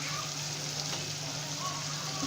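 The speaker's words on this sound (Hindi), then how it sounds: "2 मिनट हो चुके हैं मटर को फ्राई होते हुए" Peas frying in a pan for matar pulao, a steady close sizzle with a constant hiss and faint crackle throughout.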